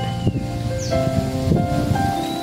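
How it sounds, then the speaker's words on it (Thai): Wind sweeps through leaves outdoors in the cool air at the end of the rainy season, a steady, close rustle that rises and falls without any talk. "บรรยากาศด้วยลมพัดเหมือนจะเข้าหน้าหนาว"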